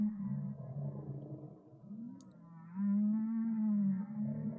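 Whale vocalizations used as a sound effect in a bedtime story, with drawn-out, low, moaning calls that bend in pitch. One call fades, then a stronger rising call swells and holds clearly alone against a quiet background.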